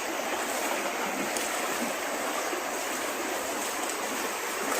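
A swollen rural creek flows steadily after its water has risen, giving a constant, even rushing wash with no breaks or voices.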